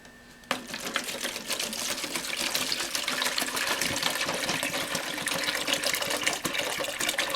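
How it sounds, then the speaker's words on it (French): Water is poured into a biogas digester container, a steady broadband gushing fill that starts abruptly after half a second and runs continuously at an even level, close and alone with no talk. "On va ajouter un peu de l'eau à l'intérieur pour pas que ça bouge de trop en attendant"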